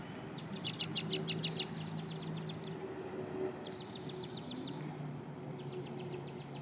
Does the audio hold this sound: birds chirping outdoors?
yes